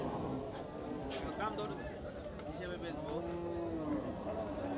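A cow lows at a cattle market on a rainy day, a drawn-out moo heard over steady background crowd noise and distant chatter, with people talking nearby.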